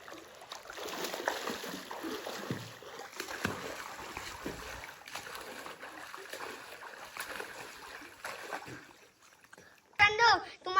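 Children jump and splash into village water while swimming, with a continuous wash of water noise and nearby voices calling out, ending in a brief sharp shout.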